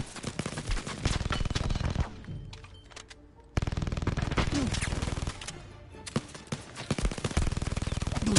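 Rapid automatic gunfire in the shooter Blood & Truth, dense bursts of shots that fill most of the stretch, loud and close, with a short near-silent gap in the middle before firing resumes.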